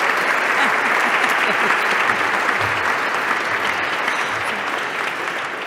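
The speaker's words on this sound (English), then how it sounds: "If we can give him another round of applause" Sustained audience applause follows an award speech at a leadership ceremony, a dense, steady wash of clapping at full volume that eases off slightly toward the end.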